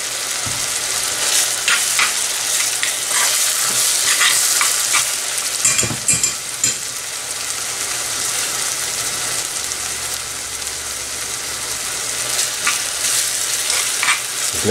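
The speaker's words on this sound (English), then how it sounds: "let these onions cook up" Onions fry in a pot of oil for jollof rice, a continuous close sizzle broken by scraping and clatter as a utensil stirs them, with a low hum beneath.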